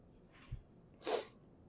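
A single sharp sneeze, close and fairly loud, preceded by a quick breath in, with quiet surroundings otherwise.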